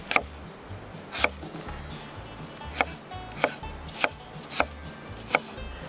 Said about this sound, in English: when you're cutting these apples, just keep in mind that the smaller you cut them, of course, the faster they're going to cook